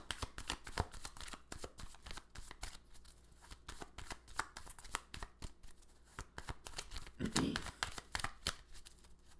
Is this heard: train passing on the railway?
no